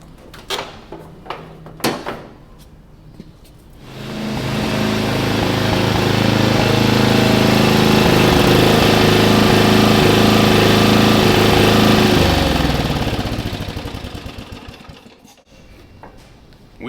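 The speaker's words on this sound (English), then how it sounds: "Engine's running a lot smoother since we cleaned out" A rebuilt riding mower engine with a cleaned carburetor starts up and runs with a steady, even drone at close range, then winds down, with a few clanks before it starts.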